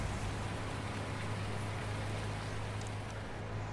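Steady rain pattering while sheltering inside a harvester in Farming Simulator 19, a continuous even hiss with a low engine-like hum beneath, no voices.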